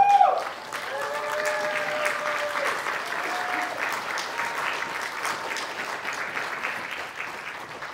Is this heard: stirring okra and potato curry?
no